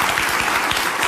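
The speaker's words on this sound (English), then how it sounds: "give her a big applause" A studio audience breaks into loud, sustained applause, dense and steady clapping filling the room at a television talk show, with no voices rising above it.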